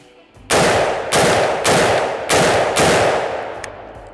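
Five rapid, evenly spaced gunshots from a short-barreled AR-15 pistol fitted with a flash hider muzzle device, each a loud, sharp blast with a ringing, echoing tail, close to the microphone.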